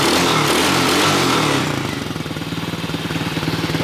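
A Tao Tao 110 Chinese four-wheeler engine idles close by, starting with a loud roar and then settling into a steady, rapid, lumpy putter after its valves have been adjusted.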